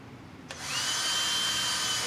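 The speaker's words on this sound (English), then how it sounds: "It's a very easy metal to drill through." A power drill spins up and bites into soft metal on a Kenwood audio component, a steady close whine that holds to the end.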